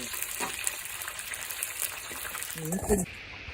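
Snakehead fish pieces dropped into smoking-hot oil in a wok, giving a soft, steady sizzle with a brief burst of frying and clatter near the end, fairly quiet and close.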